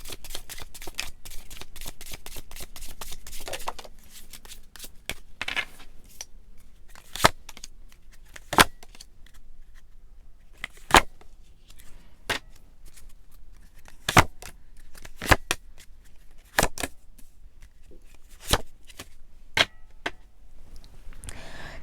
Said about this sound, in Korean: 그러면 DF분들 메시지 카드 한번 뽑아볼게요.